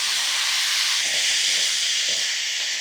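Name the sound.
chopped tomatoes sizzling as they are added to the pan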